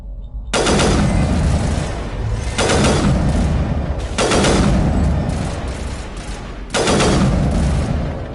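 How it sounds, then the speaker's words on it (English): Sniper rifle shots in Mass Effect Legendary Edition on PS5, four loud, heavy booming reports spaced about two seconds apart, each trailing off into a long rumbling decay. "Let's go ahead and take out the sniper rifle"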